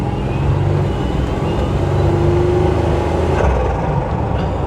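A Buick Grand National drives back and forth along a strip during a warm-up test run, its steady, loud engine and road rumble holding close throughout, with a faint rising tone partway through and no voices.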